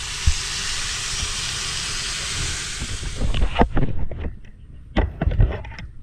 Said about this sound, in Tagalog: Gigisa muna natin dyan mga pares.